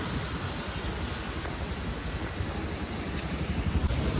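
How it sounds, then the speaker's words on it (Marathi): Swollen floodwater keeps rushing along during heavy rain, a steady, moderately loud wash of broadband roar with rumbling wind gusts on the microphone that swell slightly near the end, without speech. "बेकार पाऊस चाललाय रे"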